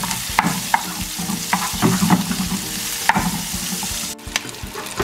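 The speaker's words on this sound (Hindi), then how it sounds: "अब इसके अंदर जो हम थोड़ा सा बटर डालेंगे इसके अंदर, और इसको हम अच्छी तरह से मिक्स कर लेंगे इसके अंदर।" Butter being stirred into butter chicken in a hot pan, with a steady sizzle and frying hiss broken by repeated spoon scrapes and clinks against the pan, close and fairly loud, with no talking.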